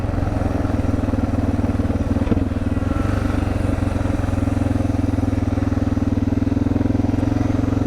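A Suzuki DR650 motorcycle ridden through a rainy forest, its single-cylinder engine thumping steadily and loud up close with a constant low drone and occasional clatter, no talking.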